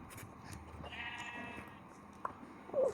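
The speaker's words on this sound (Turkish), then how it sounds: "Aha koyun." A sheep bleats in Minecraft, a short pair of bleats near the end over a faint, steady game background, with no talk.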